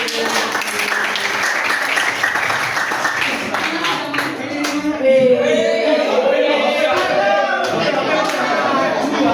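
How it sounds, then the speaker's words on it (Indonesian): A classroom applauds a student group with a burst of dense clapping that fades after a few seconds as voices and chatter take over. "Ya, tepuk tangan buat kelompok."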